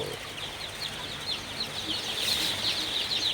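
A crowd of two-day-old Sonali hybrid chicks in a poultry shed, many high thin peeps overlapping continuously at moderate volume with no talking.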